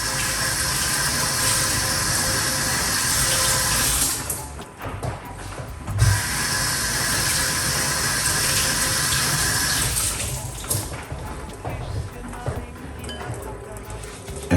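Cerasee herb is rinsed under a running tap, giving a loud, steady rush of water close by. The flow dips and breaks briefly twice as the leaves are moved under the stream.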